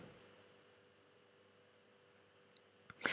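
A few sharp computer mouse clicks near the end, after a long stretch of quiet electrical hum.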